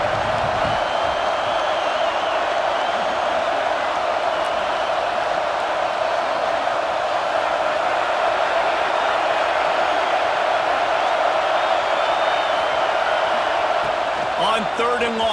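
Steady roar of a packed stadium crowd at an Indiana versus Michigan college football game, a dense continuous wash of voices holding loud throughout with a few brief swells.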